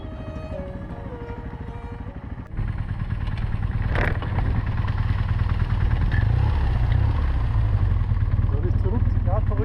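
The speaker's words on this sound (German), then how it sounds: "Dann fährt sich Oliver fest." A motorcycle engine revs hard and labors as the bike bogs down in a sandy riverbed, a loud rumbling drone rising after a quieter start, with a voice talking over it.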